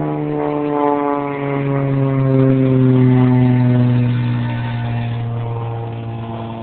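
Small nitro RC monster truck engine running steadily at a constant idle-to-mid pitch, a buzzing harmonic drone that swells slightly mid-clip before easing off, close and loud with no talk.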